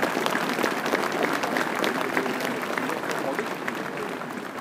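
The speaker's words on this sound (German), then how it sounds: "Ein Beifall für den Dirigenten, der das zusammenhält" An outdoor crowd at a Saxon miners' parade in Leipzig claps for the conductor, dense sustained applause, close and loud, easing slightly toward the end.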